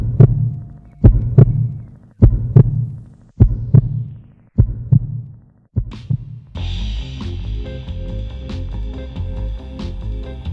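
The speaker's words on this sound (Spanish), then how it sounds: "allí es el latido de su horroroso corazón" Heartbeat effect in a Spanish audiobook of Poe's The Tell-Tale Heart, about seven loud, evenly spaced deep thumps, then a shift into a dense, droning musical bed.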